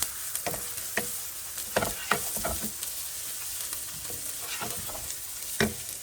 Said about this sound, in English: I am going to add the onion and saute it again